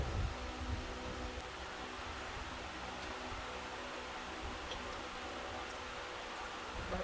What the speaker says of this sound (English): I'm sorry guys if you hear the fan in the background.